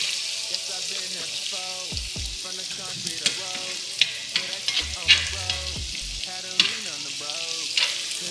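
Salmon fries in butter in a pan with steady sizzling, a few louder spits and the scrape of stirring or basting, heard close up without speech.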